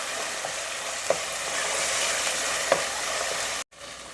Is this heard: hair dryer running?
no